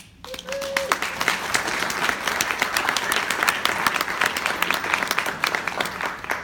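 Audience applause for Lisa and Rebecca, the event's organizers, a dense sustained burst of many hands clapping that swells quickly and holds steady for several seconds.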